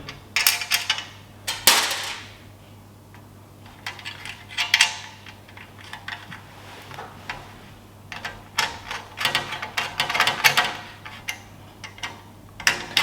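Screws dropping and clicking into place while a budget wooden-handled pizza peel is assembled, a run of sharp metallic taps and rattles in irregular bursts, close and fairly loud with quiet gaps between.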